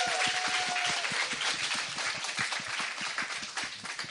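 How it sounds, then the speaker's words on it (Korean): Applause on a talk show set, a thinner clapping from a small group with distinct individual claps audible, moderately loud and steady over a few seconds. "여러분 박수 한번 부탁드리겠습니다."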